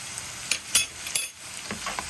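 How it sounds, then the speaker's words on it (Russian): Flour being fried and stirred in a pan while making beef goulash with gravy, heard as quick scraping clicks and a few sharp spoon strikes over a soft, steady sizzle, close up with no talking. "Тоже надо обжарить и быстро мешать, чтобы тоже комочков не было"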